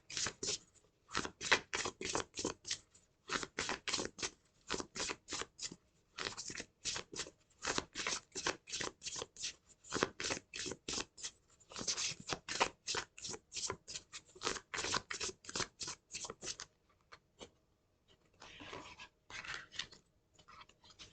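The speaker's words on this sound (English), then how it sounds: "But I'll just pull out other cards." Playing cards shuffled and pulled from a deck during a tarot-style reading, a long run of rapid, close riffling bursts with short pauses, steady and near, no talk.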